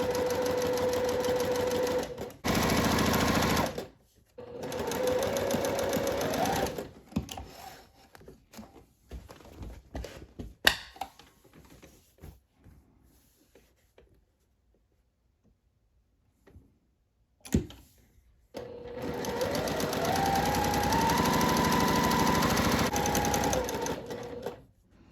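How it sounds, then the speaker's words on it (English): A sewing machine runs long gathering stitches at a 4 stitch length, 3/16 and 3/8 inch from the edge, on fabric for a Fourth of July top. Loud, steady whirring bursts are separated by a quieter stretch of ticks and handling. "I'm going to sew the first one at 3/16 inch, and the second one will be at"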